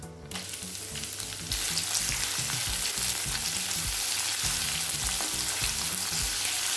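Sliced onions sizzle in hot oil and ghee in a kadai, a dense, loud crackle that grows noticeably stronger as they hit the pan, with the rhythmic scrape of stirring over it and no speech.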